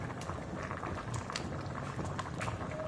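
Tomatoes simmering down in water in a pot for homemade ketchup, a soft steady bubbling and patter at low volume, continuous with no talking.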